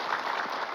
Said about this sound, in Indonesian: Boleh tepuk tangan dulu ya